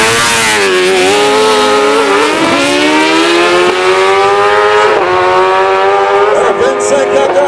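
A race car engine revs hard at a Run 40 drag race event in Goyave, Guadeloupe, a loud, sustained, rising and falling howl with brief dips between pulls and heavy outdoor noise throughout.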